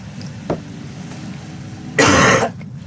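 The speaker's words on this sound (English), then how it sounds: "Like the mucusy cough." A single wet, mucusy cough sounds near and loud after a quiet moment with a faint earlier throat noise.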